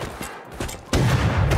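Rapid gunfire in the survival game Rust, a burst of close, loud shots at first, then a dense, continuous volley of fire filling the rest of the moment.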